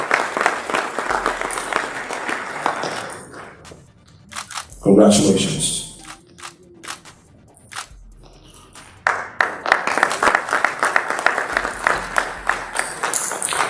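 An audience at a formal CBN beneficiary ceremony breaks into bursts of hearty applause mixed with camera shutter clicks, fading into a quieter stretch where someone offers a brief congratulation before the clapping swells again.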